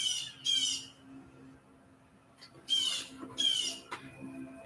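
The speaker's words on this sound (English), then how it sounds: "hearing birds all the time." A bird outdoors near a porch squawks loudly in two harsh bursts, separated by a quieter stretch of faint background ambience.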